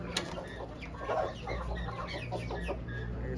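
Serama chickens cluck continuously at close range, several birds overlapping in irregular bursts against a low steady background hum, with no talk.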